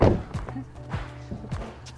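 Demolition work inside an old church building produces a series of dull, close thuds and knocks at an uneven pace, three or four impacts over low room noise.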